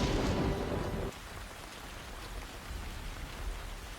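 Heavy rain with a rolling rumble of thunder from a TV drama episode, a loud thunder burst at the start easing into steady, hissing rainfall that continues alone.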